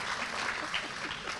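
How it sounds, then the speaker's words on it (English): Applause from an audience at a talent show, a steady wash of clapping hands filling the whole brief moment at moderate distance. "thanks for clapping first"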